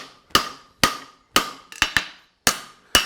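Horseshoe stock hammered on an anvil during specialty forging: seven sharp, ringing metallic strikes at an uneven rhythm, close and loud, each decaying quickly, with one quick double blow.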